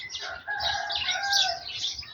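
Chickens at a Thai home garden, with a steady bright crowing and clucking chorus running through the whole stretch, moderately loud and close, no talk over it.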